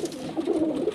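A single breeder pigeon gives a short, warbling coo close by, heard alone for about a second.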